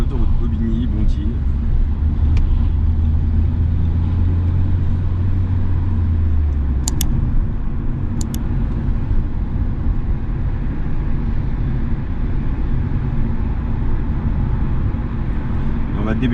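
A car on the road during a driving lesson heading toward the Bobigny motorway, a steady loud engine and road rumble that holds throughout, with a low droning tone early on and a few brief clicks midway.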